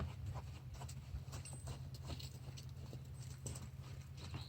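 Hooves of a horse being lunged in a close circle around its handler, soft irregular clip-clop thuds repeating steadily over a constant low rumble of outdoor noise, with no talking.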